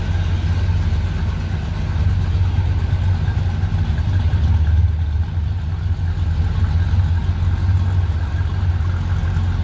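A 1964 Pontiac GTO idles steadily with a deep, rumbling exhaust burble, loud and close, holding an even low throb for the full stretch with no talk.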